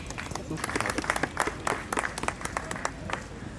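Scattered applause from a small crowd greets the mayor's entrance at a civil wedding ceremony, a moderate burst of uneven claps that carries on for a few seconds beneath a voice speaking.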